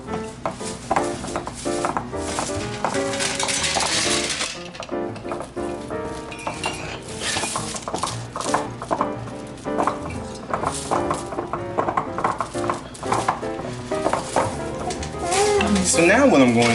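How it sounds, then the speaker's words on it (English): Cheesecake batter being mixed in a bowl, with clinking and scraping of a utensil against the bowl, steady and close, plus a brief louder clatter near the end. "Make sure you mix this in very well."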